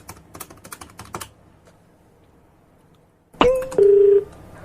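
A rapid series of key taps, a pause, then dialing tones followed by a steady tone on a phone line.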